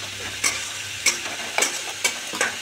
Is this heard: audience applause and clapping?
no